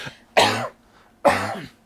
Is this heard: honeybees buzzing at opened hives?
no